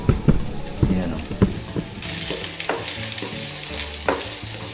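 Onion and garlic hit hot oil in a pan with a loud, steady sizzle and scraping stirring strokes. The frying hiss swells after the first couple of seconds and carries on continuously, close up.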